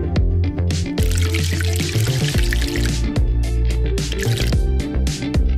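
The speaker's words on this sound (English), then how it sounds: "Pour us some tea." Tea is poured into cups with dripping, splashing liquid sounds under loud, continuous music.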